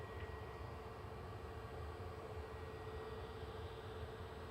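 An EasyJet airliner bound for Dubrovnik at Manchester Airport, a low, continuous engine rumble at quiet level, steady throughout with no talk.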